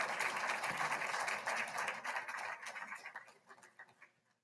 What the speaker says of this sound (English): Another round of applause for our ALI 2 group.